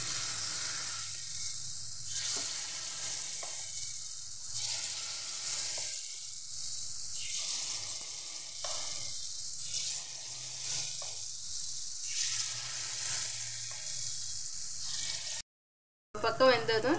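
Paniyaram batter sizzling in hot oil in a paniyaram pan, a steady close frying hiss that swells in repeated waves and cuts off briefly near the end.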